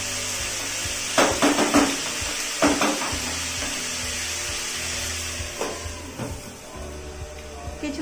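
A pan of potatoes frying for spicy semolina on a gas stove at full flame is covered with a lid, with a few metallic clatters and knocks over a steady sizzle.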